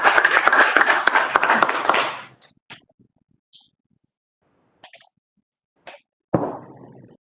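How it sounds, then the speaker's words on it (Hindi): Audience clapping to welcome the health minister at a government HIV, TB and blood donation campaign launch, a loud burst of applause that stops after two seconds, followed by scattered isolated claps and a brief final flurry. "एक बार तालियों के साथ आइए अभिनंदन करें"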